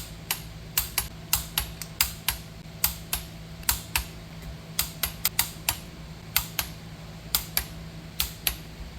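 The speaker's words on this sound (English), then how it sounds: "Alright, torquing her down." A torque wrench tightens the head bolts on a boat engine toward a first step of 50 foot-pounds, making crisp, close ratcheting clicks that come singly and in quick pairs at an uneven pace.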